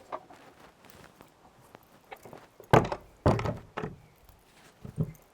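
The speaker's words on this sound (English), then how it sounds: "It is a nice door." The heavy door of a traditional underground storage house in a Nordic forest in Sweden gives several dull thunks and knocks, with faint shuffling and steps between them.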